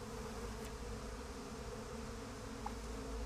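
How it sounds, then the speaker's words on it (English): Swarm of bees buzzing in the video game Psychonauts 2, a steady droning hum that holds at constant level throughout, with no voices over it. "Want me to kill those bees?"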